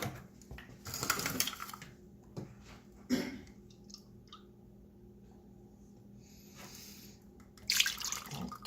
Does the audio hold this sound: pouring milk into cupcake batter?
yes